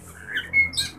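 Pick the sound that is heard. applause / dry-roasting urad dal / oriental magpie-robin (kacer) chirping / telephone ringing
oriental magpie-robin (kacer) chirping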